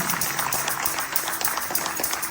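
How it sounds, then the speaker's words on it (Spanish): Church congregation in a Spanish-language service gives a strong round of applause to God, a dense, steady clatter of many hands, fairly loud and continuous across the short span. "Denle un aplauso bien fuerte a Dios"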